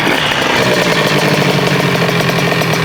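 Rieju MRT Pro 100cc dirt bike engine with a poorly tuned carburetor, running loud and steady at close range with a raspy, buzzing two-stroke idle throughout, no talking.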